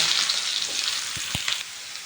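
Chopped onion sizzles in hot oil in a pan as the first step of a tomato chutney: a loud, steady, close hiss with a couple of soft low knocks and no talking.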